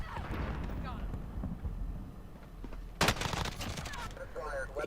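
Gunfire rattles during a gunfight in Call of Duty, scattered shots and bursts giving way to a sharp, loud volley near the middle, with voices talking over the action.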